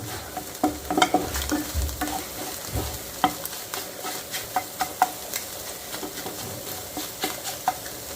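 Cooked tomatoes are mashed and stirred in a pan for egg bhurji, with a soft sizzle beneath and repeated close scraping taps and clicks of the spoon against the pan.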